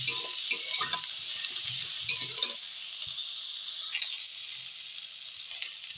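Onion frying in a pan as part of a home recipe: a steady bright sizzle lasts throughout, with scraping and stirring knocks from a utensil in the first couple of seconds, then mostly hissing with occasional light clinks.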